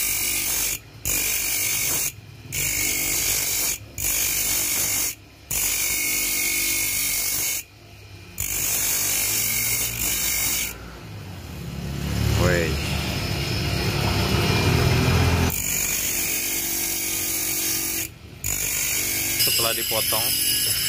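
A power tool cuts a hard blue opal stone with a loud, steady motor whine that breaks off in several short gaps. A deeper grinding stretch follows in the middle, and people talk over it.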